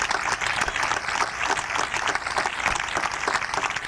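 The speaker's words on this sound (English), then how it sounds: "Would you please join me in a round of applause for all these recipients?" Sustained audience applause at a high school graduation commencement, honoring scholarship recipients; dense, steady clapping from a large crowd, continuous and even throughout, with no voices standing out.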